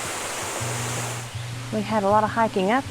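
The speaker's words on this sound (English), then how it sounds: "With every step level we come down, there's another set of falls." Cascading water at Bushkill Falls in Pennsylvania's Pocono Mountains gives a steady hiss that fills the first half, then continues more softly beneath someone speaking.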